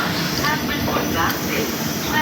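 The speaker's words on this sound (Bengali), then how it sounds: "ট্রেন ছাড়লো।" A train pulling out of a station after a five-minute stop under dark, overcast skies, with a steady rolling rumble from inside the carriage and faint voices over the continuous rail noise.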